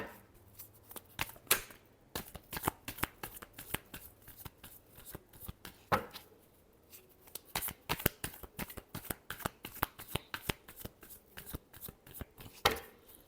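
A deck of tarot cards is shuffled by hand up close, with rapid repeated riffling snaps and slaps in uneven bursts that run through the whole stretch, with no voice over them.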